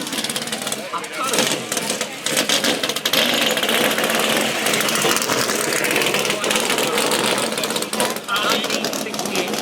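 A Chevrolet Corvette L88 engine runs loud and close at the Amelia Island Concours car show, idling roughly with some revving, while a person talks over it.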